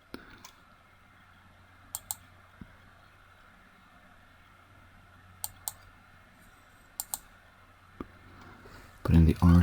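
Computer mouse clicks while selecting edges in CAD software for a sheet metal top hat drawing: sharp, close clicks in pairs and singles spaced across several seconds over a quiet background, followed by a short burst of speech at the end.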